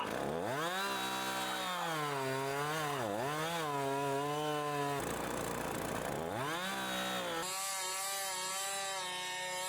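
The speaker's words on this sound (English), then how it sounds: "I cut the rounds" A chainsaw cuts firewood log rounds, its engine whining loudly, with the pitch sagging and climbing as the chain bogs into the wood and frees up again, plus a brief idle drop between cuts.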